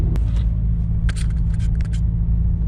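Volkswagen MK4 Jetta TDI diesel with a K&N air filter, floored under acceleration: a loud, steady low engine rumble with scattered brief rattles and scrapes over the top.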